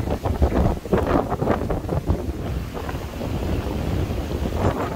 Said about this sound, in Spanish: ¡Qué viento, por Dios!